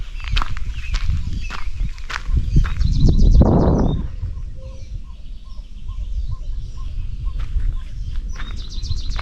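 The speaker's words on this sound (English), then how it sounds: "That's a weird sounding bird, if that was a bird." Odd, unidentified bird call repeating in short pulses through heavily wooded sandhills country near a lake, faint and distant beneath footstep-like rustling and a louder noise burst early on.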